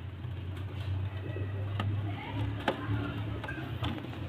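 Pigeons coo softly in a low, steady murmur, with a few faint ticks and clicks scattered over the background.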